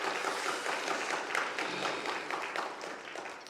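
Congregation applause in a church, a dense steady wash of many hands clapping continuously throughout, fairly loud and close, with no speech over it.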